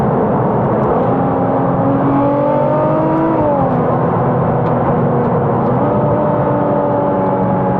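Nissan GT-R Nismo R35 track-spec tuned to 757 bhp, with titanium exhaust tips, pulling hard from the cabin: a loud, smooth engine drone climbing in pitch through the revs, a gear change partway, then building again.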